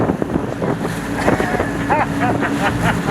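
Amphibious duck tour boat cruising on the water in Seattle, a loud steady engine drone mixed with wind buffeting the microphone and splashing water, with faint voices and a brief tonal sound partway through.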